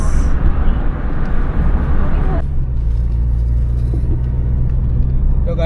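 A Maruti Baleno climbs a steep mountain road in second gear, its engine giving a steady, close low rumble with road noise; a brighter hiss drops away partway through while the engine drone continues.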